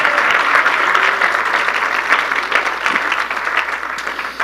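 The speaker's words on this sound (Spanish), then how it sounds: "Dele fuerte más el aplauso al Señor" Congregation at a church service applauding, a steady dense wash of clapping from many hands that fills the whole stretch, fairly loud with no clear talk on top.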